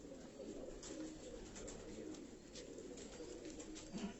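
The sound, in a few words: breeder pigeons cooing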